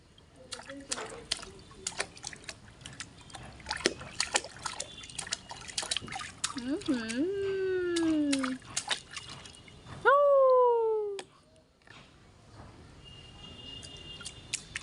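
Water poured over someone's head on a hot day trickles and dribbles in uneven spurts, with drips and splashes under excited, high-pitched talking nearby.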